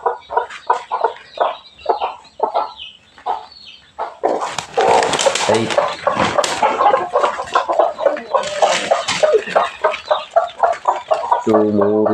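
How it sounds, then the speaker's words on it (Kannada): A domestic hen with six chicks clucks steadily at close range, with short repeated calls and a busier burst of fowl noise in the middle, ending on a low rooster-like note. "ಕೋಳಿ ಮರಿ ಕೂಡ ಬಂದಿದೆ"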